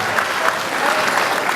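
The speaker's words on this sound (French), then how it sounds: "Oh, mes frères de l'Ouest, applaudissez très fort encore" An audience at a party gives loud, steady applause, a dense wash of clapping that lasts briefly and stays even throughout.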